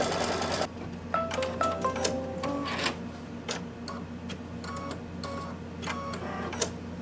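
A home embroidery machine stitches a tacking line to hold batting in place on a mug rug, a steady run of rapid mechanical ticks and clatter with short bursts and pauses, close and continuous with no talking.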